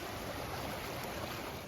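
Steady broadband rush of a stream flowing beside a trail campsite, loud and continuous with no break, no voices over it.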